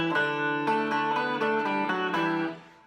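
A 1967 Rickenbacker 366 twelve-string electric guitar played unplugged, its jangly chord strums ringing at a moderate rhythm before the last chord fades, with no voices.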